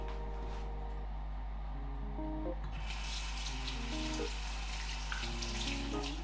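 Tap water runs steadily from a faucet into a sink during face washing, a continuous splashing wash at close range. A low hum sits underneath, and no one talks.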